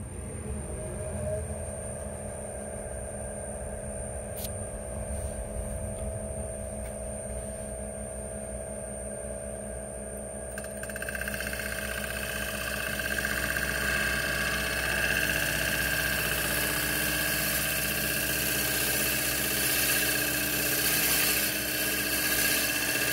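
A wood lathe turns a Spanish cedar winged bowl in reverse, giving a steady motorized hum with tonal whine. Partway through it swells into a louder, broader roar as cutting begins, with no voices.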